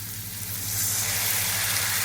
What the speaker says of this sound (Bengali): এখানে কিছুটা জল দেবো আমি